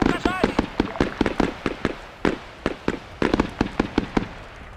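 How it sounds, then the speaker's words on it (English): Repeated mortar explosions from a barrage in a military video game, a rapid string of sharp booming impacts in an uneven rhythm, close and loud, some thumps bunched together and others spaced apart. "The mortar barrage was excellent"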